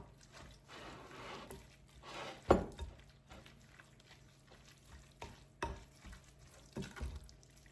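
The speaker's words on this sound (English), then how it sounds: "you're gonna just stir this all together" A pimento cheese mixture made with a 2-pound block of cheese, jarred pimentos and mayonnaise is stirred in a bowl, giving soft wet scraping and squelching strokes in an uneven rhythm, with a few sharper clacks of the spoon against the bowl.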